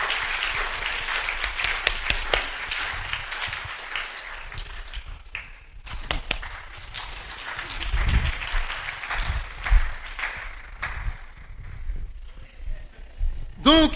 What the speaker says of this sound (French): Applaudissez pour le frère.